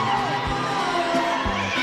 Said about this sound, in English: He has got a pretty raucous crowd with him tonight.